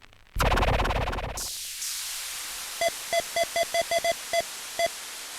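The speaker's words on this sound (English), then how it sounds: "That vinyl noise there, scratches." Vinyl scratch and crackle sample from a Boss DR-202 drum machine: a loud burst of broadband scratching noise fading into a hiss, followed by a run of about ten short, evenly spaced tonal blips.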